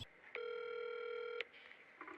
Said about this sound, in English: I'm calling 911.